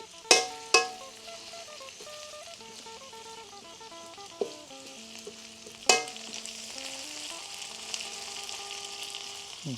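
Chili and garlic frying in a wok, a steady close sizzle with a few sharp metal clanks of the spatula, background music running underneath.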